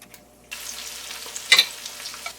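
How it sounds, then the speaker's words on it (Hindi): Half a kilo of sliced onions frying in a pot with whole spices for Madrasi chicken biryani, a close steady sizzle with a brief louder stir or clatter in the middle and no talk. "प्याज को अच्छी तरह से ब्राउन कर लें।"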